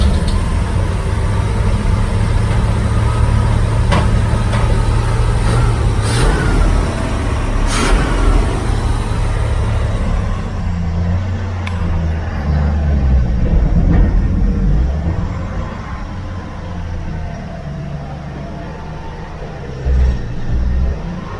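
A 1969 Chevy van's engine runs at idle with a low, steady rumble, then dips and shifts in tone as it settles, heard close and fairly loud with no talking.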